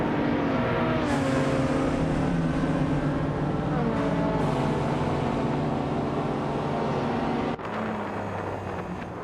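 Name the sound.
1983 Porsche 911 930 Turbo engine in a racing video game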